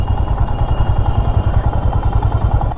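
A motorbike rides slowly along a rough, broken road in jammed traffic in Bihar, its steady low engine rumble close and continuous with rattling clatter from the bumpy surface.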